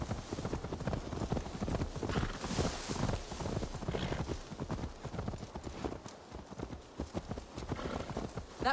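Horse hooves clip-clop steadily and rapidly in Assassin's Creed Valhalla, a continuous trotting rhythm over dense game ambience, close and fairly loud throughout.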